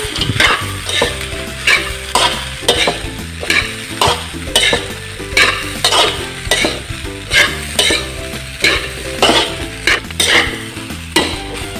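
Homemade Ilocano-style fried rice with egg and squid balls is stirred in a hot pan, producing rhythmic spatula scrapes over a continuous close sizzle, repeating about every second with no voices.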